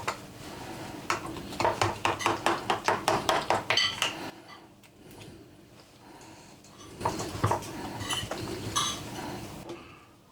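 A slice is cut from a baked lasagna in its dish, heard as a quick rhythmic series of metallic knife-and-dish taps and clinks for a few seconds, then a pause and another burst of scraping clatter, close up with no talk.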